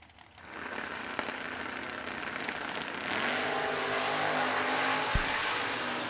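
Drag racing cars, including Jake Clayton's S10, launch from the starting line at a Twin Fifties event with a loud, sustained engine roar that builds as the run begins, heard from close by.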